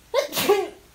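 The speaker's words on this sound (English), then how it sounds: "Sorry, gonna sneeze." A single close sneeze bursts out indoors during a Men's Shed 3D card-making session, quick and loud, with a short vocal tail.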